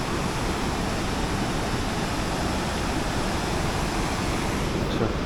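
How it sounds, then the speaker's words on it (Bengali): Small waterfall in a canyon at Bhimkund, Keonjhar, heard as a steady, even rush of falling water that fills the whole stretch without pause, with a little wind mixed in. "ঝর্ণার ব্যাপার, ঝর্ণা টাইপ হয়ে গেছে।"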